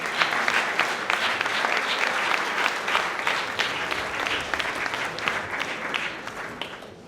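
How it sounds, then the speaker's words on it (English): An audience at an awards ceremony applauds the designer of the award, brisk many-handed clapping that holds steady and fairly loud for several seconds, close to the listener, with no talking. "Let's give him a round of applause."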